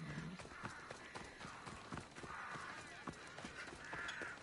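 Horse hooves clip-clop steadily in the video game Assassin's Creed Odyssey, an even trotting rhythm of quiet, close hoof strikes with faint bird calls in the background.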